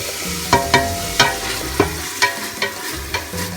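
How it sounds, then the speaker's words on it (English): Meat frying in olive oil in a pot, a continuous sizzle broken by a series of sharp clacks from a utensil hitting the pot at irregular intervals, close and without talk. "So now I'm adding the meat into the pan, into the pot like so."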